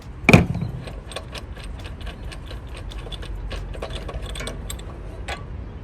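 A spark plug spanner ratchets and clicks while loosening the spark plug on a fire pump engine, opening with a sharp metallic clank followed by a run of small, irregular ticks and scrapes.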